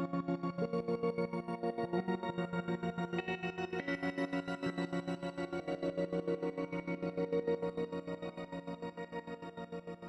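An ambient tremolo pad from an Axe Fx guitar processor, modulated by a square-wave LFO, chops a sustained, shimmering chord into an even on-off pulse that runs steadily for ten seconds while the notes slowly shift.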